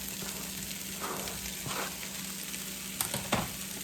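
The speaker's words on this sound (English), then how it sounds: "And then we'll go ahead and add in our sausage to that and get that cooked down." Sausage and vegetables fry in a pan with a continuous, close sizzle, joined near the end by a couple of sharper clinks and scrapes.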